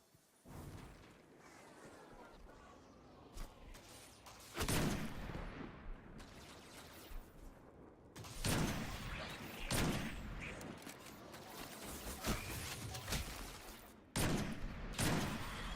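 Scout rifle gunfire from Destiny 2 rings out in bursts of sharp, loud shots, several clustered volleys separated by short lulls, over steady game ambience and background effects.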